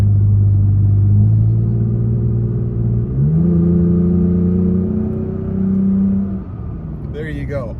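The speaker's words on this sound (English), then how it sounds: "She's had a good taste of what the exhaust sounds like on my Toyota Tacoma." A Toyota Tacoma with a loud aftermarket exhaust drones steadily under acceleration, its deep tone shifting up at a gear change midway before easing off near the end.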